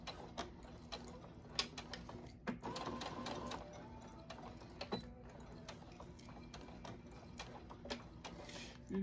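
A sewing machine runs a straight tacking stitch on a rolled-elastic cloth diaper, a faint, steady rapid ticking with a few brief pauses in a quiet room, with light talk.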